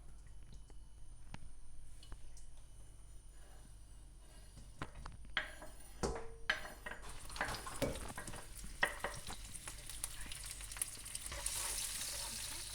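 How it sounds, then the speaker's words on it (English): Sun-dried tomatoes, olives and grated garlic sizzle and crackle softly in olive oil in a hot pan, the frying growing louder and busier toward the end, with occasional stirring noises. "you will sizzle your sun-dried tomatoes, olives, and grated garlic"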